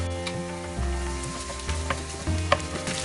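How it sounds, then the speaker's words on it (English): Onion frying in a pan with ginger and garlic paste, giving a steady, close sizzle with occasional stirring scrapes and spatters and no talking. "We'll fry the onion till light golden color."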